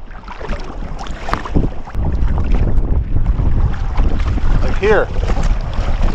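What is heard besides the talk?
gusty wind while kayaking on Lake Superior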